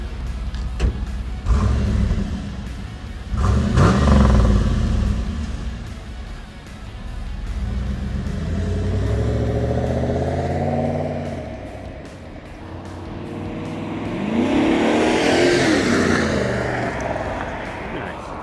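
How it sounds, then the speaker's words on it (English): A 1995 Chevrolet Camaro Z28 convertible sweeps past in a flyby, its engine rising as it approaches and shifts gear, then surging loudly near the end with a rushing pass, mixed with people talking nearby. "Let's do some flybys. Let's do a flyby."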